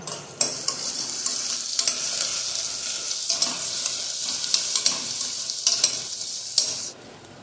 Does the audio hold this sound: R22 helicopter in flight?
no